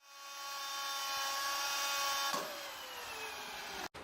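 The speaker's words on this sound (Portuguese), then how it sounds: "Eu fiz um furo aqui com a furadeira mesmo" A power drill bores a hole through the plastic adjustment cap on top of a walking pole, a steady high whine that drops in pitch about halfway through as the bit breaks through, then cuts off with a click.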